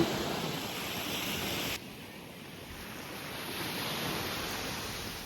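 Continuous wash of sea waves breaking on a shore on a quiet evening, broadband and steady, with a sudden drop in level partway through and no voices.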